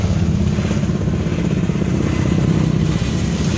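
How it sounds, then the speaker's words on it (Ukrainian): Low-flying helicopters over Enerhodar, a loud, continuous droning rotor and engine rumble that holds steady throughout with no pauses. "Заміж школи діти рахують вертольоти."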